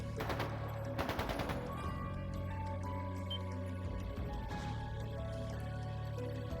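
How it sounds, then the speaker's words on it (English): Rapid bursts of automatic gunfire in the video game The Legend of Heroes: Trails of Cold Steel II crackle near the start and again around the one-second mark, layered over steady background music and tones. "That sounded like gunfire."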